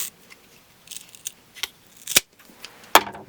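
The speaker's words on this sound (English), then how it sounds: "Scissors here." Scissors snip through leather in a run of sharp, close cuts, irregularly spaced, with quieter rustles between them.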